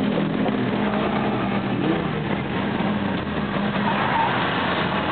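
Drift car at Weeze in 2009, engine revving continuously with a dense, rough roar heard from a distance, steady and loud throughout the short stretch with no talk.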